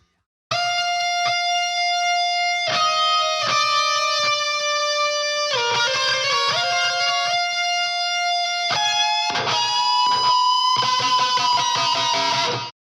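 A heavily distorted electric guitar plays sustained, bending lead notes and shifting tones, loud and alone, with brief breaks between phrases.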